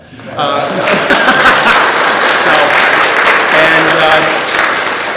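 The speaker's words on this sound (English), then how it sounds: "If you want to clap, that's fine." Applause from an audience at a school district funding announcement, a dense steady clapping wash rising quickly after a brief quiet start and holding loud throughout, with faint chuckles and scattered voices mixed in.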